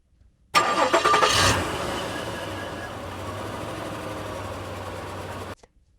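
A van engine rumbles steadily at close range after a brief louder burst at the start, holding a constant low drone until it cuts off.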